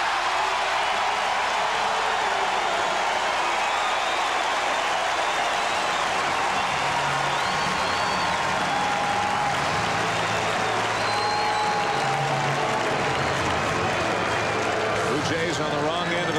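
Baseball crowd at a 1998 Blue Jays–Mets game applauding and cheering steadily throughout, a broad sustained wash of claps and voices with announcers talking over it.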